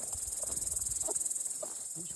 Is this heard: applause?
no